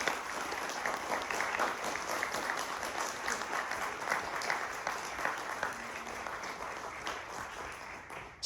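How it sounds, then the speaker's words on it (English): Steady sustained applause from a crowd at the close of a Carl Sagan birthday lecture, dense and even throughout, heard from mid-distance at moderate level with no talking over it. "If we could get one last round of applause for Gillis"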